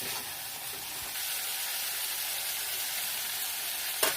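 Spices with sugar, chilli powder and cumin powder fry for a sweet katla tomato gravy, a steady close sizzle holding evenly throughout with a faint knock at the very end.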